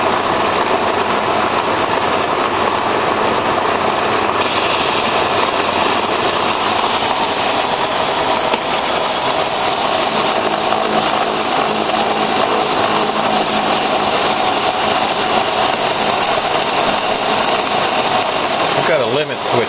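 Machine cutting splines with coolant running, a continuous loud dense grinding and hissing roar that holds steady throughout with no pauses.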